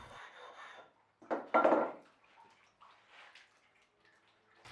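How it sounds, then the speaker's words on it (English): A steel blade forged from an old rifle barrel is worked on Japanese water stones, giving a few separate wet scraping strokes, one louder burst then softer rubbing, quiet and close with no speech. "Now I'll go to a sequence of Japanese water stones."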